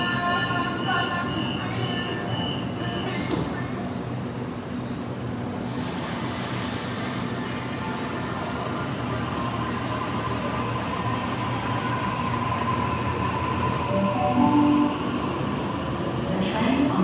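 A Sydney A-set electric train at North Sydney station hums and rumbles steadily nearby, with a hiss of air partway through and faint squealing and tonal whine, under distant announcements and voices.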